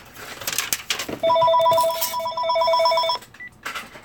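A telephone rings in a workshop during a Mini C1 Sunny build, its electronic ring pattern repeating for about two seconds over faint background noise, then cutting off.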